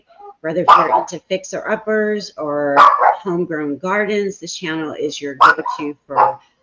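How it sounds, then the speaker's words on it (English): A dog barks close by at a property in Columbia, North Carolina, the sharp barks mixed in with someone speaking steadily over them. "Sorry about the barking"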